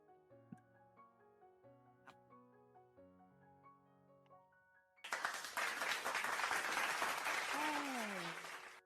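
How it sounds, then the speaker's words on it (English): A dense burst of hand clapping starts partway through, after a stretch of soft tonal notes, and runs on loudly to the end while a voice sounds over it. "I'm definitely clapping my hands"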